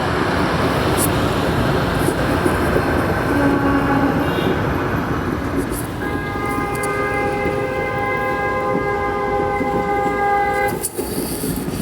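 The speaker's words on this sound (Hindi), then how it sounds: "हमारी ट्रेन ओवरटेक कर रही है राजगीर एलटीटी जनता एक्सप्रेस को" The Rajya Rani Express rumbles and clatters loudly while overtaking the Rajgir LTT Janata Express, with a steady roar of wheels on rails and a sustained horn tone sounding in the second half.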